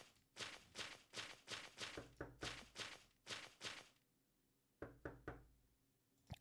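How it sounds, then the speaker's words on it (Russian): Knocking on a door, a quick series of about a dozen sharp raps in a steady rhythm, then a pause and three more knocks, close and fairly quiet with no voices. "Кто-то стучится."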